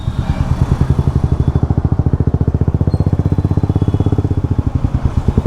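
A Bajaj NS200 BS6 motorcycle engine held around 4,000 rpm gives a fast, even mechanical rattle with rapid regular pulses, loud and close, with no talking.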